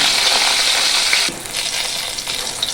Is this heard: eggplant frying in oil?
yes